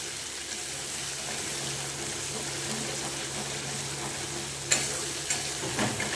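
Spices with turmeric and salt sizzle steadily as they are sautéed in a pan, a continuous frying hiss with a few sharp scraping stirs near the end, heard close and without talk.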